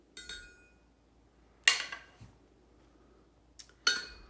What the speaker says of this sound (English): put everything in the blender.